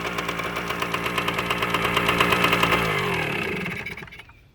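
A KM100 engine flooded with oil bogs as it runs, a thick, rough, pulsing drone that rises then sags and dies away near the end, loud and close with no talk.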